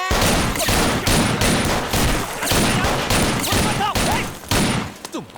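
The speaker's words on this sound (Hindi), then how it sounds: "गिनती किए बिना ढिशक्याओ गोली चलाएंगे सर" Rapid bursts of gunfire fill an action movie scene, a loud, dense fusillade of repeated shots that crack in quick succession almost without pause.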